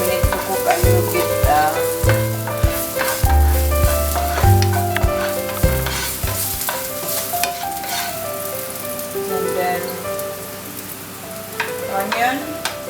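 Garlic sizzles in a hot pan on a home stove for a Greek moussaka, a steady crackling fry broken by scraping and stirring clatter from a utensil against the pan.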